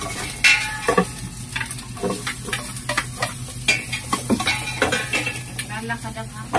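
Ginger sautéing in a small amount of oil in a pan, with soft sizzling under repeated scraping and clinking of a utensil stirring against the cookware, close and moderately quiet.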